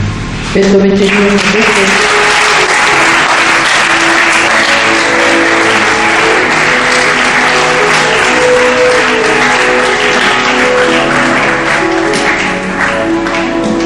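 A church congregation claps in sustained applause throughout, loud and dense, with music tones and some voices underneath.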